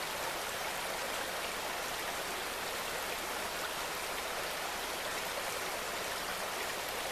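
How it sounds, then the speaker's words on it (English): The North Fork of the Thornton River in Shenandoah National Park rushes in a steady broadband wash, loud and continuous for the whole stretch with no voices. "take a look at the Thornton River"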